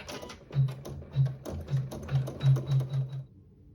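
An embroidery machine stitches a tack-down line on quilt-along fabric, giving a run of rhythmic mechanical pulses with clicky needle taps, steady and close, then stopping near the end.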